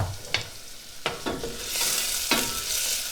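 Garlic sizzles softly in a pan, a steady quiet frying hiss broken by a few sharp scraping stir strokes at irregular intervals.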